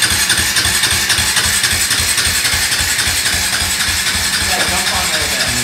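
A KTM quad engine running right after starting, a steady close idle with an even pulsing throb throughout, loud and unbroken.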